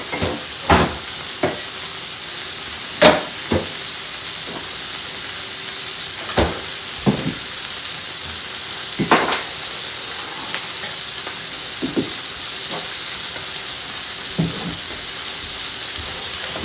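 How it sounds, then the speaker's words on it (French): Salmon frying in a pan sizzles with a steady loud hiss, broken by occasional sharp spatters and pops, with no talk. "on est en train de faire cuire le saumon"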